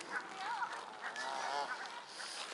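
Geese at a waterside bird park honk repeatedly in a noisy flock, several nasal calls overlapping against steady outdoor background noise.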